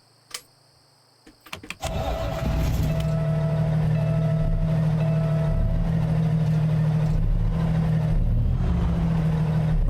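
Peterbilt 389 truck in American Truck Simulator: a few clicks and a thump, then an engine starts and settles into a steady, loud, low idle with a faint whine, running alone for most of the stretch.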